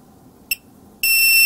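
A 2-4S low LiPo battery voltage alarm on an RC battery pack goes off after one cell is disconnected: one short shrill beep, a brief pause, then a loud continuous high-pitched tone, close and alone.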